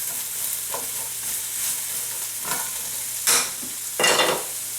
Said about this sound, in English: So the onions are zhuzhing around in here.